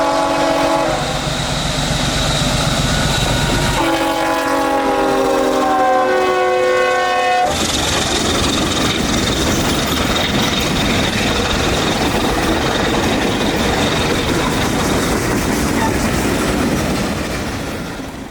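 A work train led by an ET23DCM locomotive passes close by, with a loud horn blast that sounds for several seconds early on. The rumble and rail clatter of the train rolling past continue steadily throughout.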